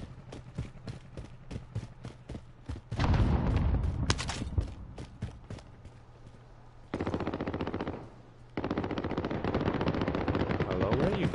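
Automatic fire from a SCAR rifle in Call of Duty Warzone, heard as rapid, close, loud bursts separated by short pauses, with game sounds in the background.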